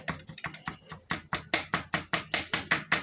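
A small knife chops food on a board in a quick, even series of about fifteen crisp knocks, growing louder and steadier after the first second, close and alone.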